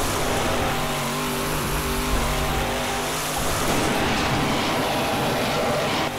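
A monster truck engine in Duke Nukem Forever drones loudly as it drifts, holding a steady pitch, then roars into a rougher, noisier burst of revving partway through.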